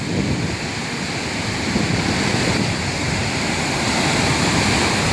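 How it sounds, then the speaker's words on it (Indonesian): Strong river current of the Progo near the Srandakan dam construction site, a steady loud broadband roar of rushing water with some wind buffeting on the microphone, continuous throughout with no speech. "ini dia arus Sungai Progo yang cukup deras"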